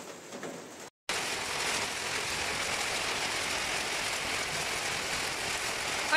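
Rain mixed with hail falls heavily in Kalimpong as a dense, steady close hiss of pelting on surfaces, briefly cut off near the start before resuming without letup.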